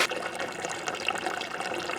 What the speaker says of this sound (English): Add in our sugar and salt, our gallon of water, and we are ready to add this to our brisket.